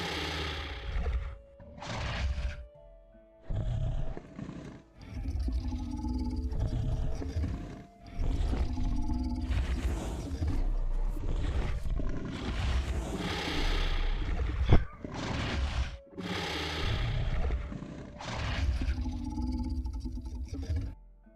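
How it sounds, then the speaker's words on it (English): A creature's sniff ability in the video game Echoes of Extinction, deep bursts of snorting and breathy roaring that repeat in waves over twenty seconds with brief pauses between them. "Does the sniff work?"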